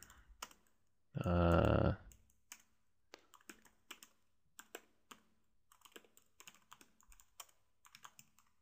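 Quick keyboard typing clatters in scattered bursts of clicks across several seconds, preceded by a brief loud broadband noise burst near the start, with no voices.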